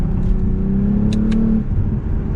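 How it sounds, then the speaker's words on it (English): A 2021 Lexus ES 350 F Sport engine drones steadily up close, its pitch rising briefly as it revs during a downshift before settling back to a smooth hum. "You can pop it over and downshift a few gears, give it a little bit of gas."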